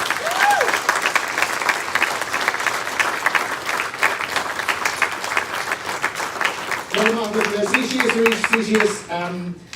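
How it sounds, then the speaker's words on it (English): Sustained, loud audience applause for Eileen Boland at an IMNDA awareness event, with dense clapping throughout and crowd voices and cheers rising near the end. "can we have another huge round of applause for Eileen Boland?"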